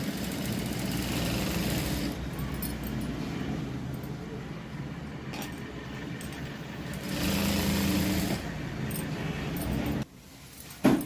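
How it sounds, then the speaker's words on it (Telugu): A sewing machine runs steadily while stitching blouse piping on a single presser foot, a continuous close mechanical hum and whir that keeps going for about ten seconds before cutting out near the end. "సింగిల్ పాదం పైన ఈ విధంగా కుట్టు అనేది వేసుకోవాలి"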